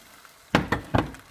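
Water poured into a hot pan of browned rice for pilaf, with stock cube added, gives three sharp sizzling bursts in quick succession and then settles to a faint hiss.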